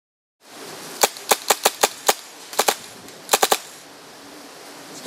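Tippmann M4 airsoft gas blowback rifle firing at a range: a steady run of six sharp, evenly spaced shots, then a quick pair and a fast triple, loud and close over a constant outdoor hiss.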